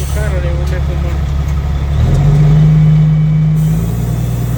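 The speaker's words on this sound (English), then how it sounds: "We're dumping the last load." A Kenworth W900B dump truck with a CAT C13 engine dumps its load, its loud diesel idle rising into a steady higher hum as the bed lifts, while a person talks near the start.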